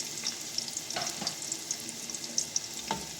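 Chopped onion sautéing with marinated chicken in a pan, a light continuous sizzle broken by a few soft scraping stirs, near and fairly quiet with no talking.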